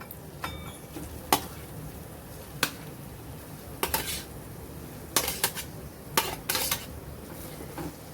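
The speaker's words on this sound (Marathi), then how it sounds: "मी आता हे किसलेलं रताळं सगळं घालते याच्यामध्ये" Grated sweet potato tipped into ghee in a kadai, giving a few scattered metallic clinks and scrapes of utensil against pan, sharp and spaced out over a quiet background.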